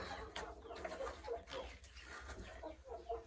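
Several chickens cluck and a rooster calls now and then, close by in a busy farmyard, with steady low background noise.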